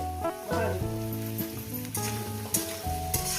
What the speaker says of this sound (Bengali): এটাকে আমি পাঁচ মিনিট ধরে ভাজবো